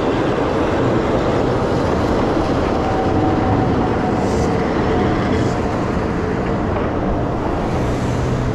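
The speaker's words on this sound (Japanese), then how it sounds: "路面電車ですね。 京阪電車。" A Keihan tram passes along a city street, a loud, steady rolling rumble with a faint metallic squeal and light clatter, close by and continuous, without speech.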